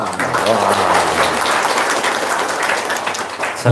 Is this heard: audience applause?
yes